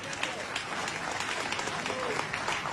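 Steady applause and cheering from a wedding congregation celebrating a newly married couple, a continuous wash of clapping at moderate level, with a voice speaking over it.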